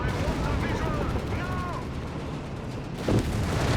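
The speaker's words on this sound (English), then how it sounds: "Artillery firing down death here." Constant booming and rumbling artillery fire in the battle game Company of Heroes 3 fills the clip, with dense blasts layered under other battle noise, a louder impact near the end, and a voice talking over it.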